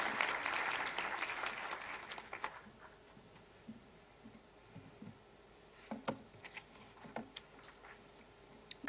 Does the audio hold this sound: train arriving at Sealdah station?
no